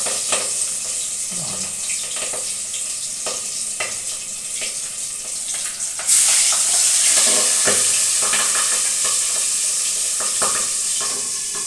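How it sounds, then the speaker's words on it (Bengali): Fish frying in hot oil gives a loud, dense, continuous sizzle that swells briefly as more pieces go in, with occasional soft knocks of a utensil, close up, no talking. "এখন আমি মাছগুলো ভেজে নিচ্ছি।"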